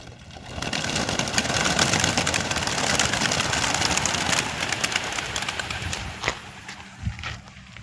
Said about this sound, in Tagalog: Na-release na ibon natin ng 6:45.